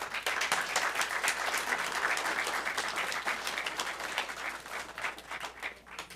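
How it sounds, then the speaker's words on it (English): Dense audience applause at a live show, a steady wash of many hands clapping that holds even and moderately quiet before thinning toward the end. "Thank you all very much for the gracious applause."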